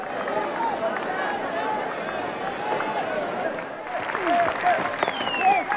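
A cricket crowd applauds Mark Taylor reaching his century, with his Australian teammates standing; steady, fairly distant clapping and crowd noise run throughout, swelling slightly near the end.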